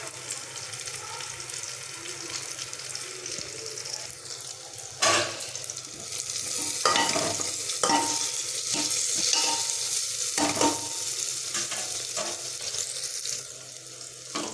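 Tomatoes and ground spices sizzle and fry steadily in a pan for buto dal, an Odia chickpea curry, with loud clatters of stirring and scraping from a spoon throughout.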